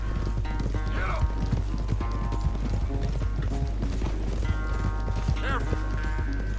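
Horses galloping in a race in Red Dead Redemption 2, a rapid continuous clip-clop of hooves close by with mechanical rattling of tack, a couple of brief neighs and talk over it.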